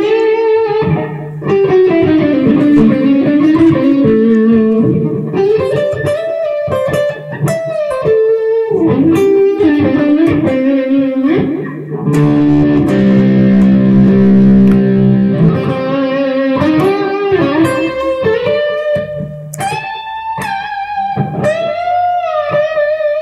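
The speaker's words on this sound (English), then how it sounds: "This also has good distortion sound." A distorted electric guitar plays a melodic solo line for over twenty seconds, loud and close, with sustained bent notes, fast runs and a thick held passage in the middle, with no talking.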